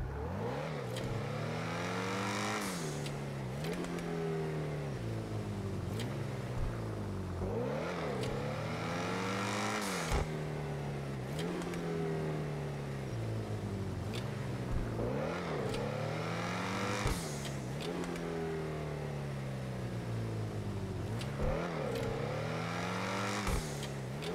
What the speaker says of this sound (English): Supercar number 3, Ocelot XA21.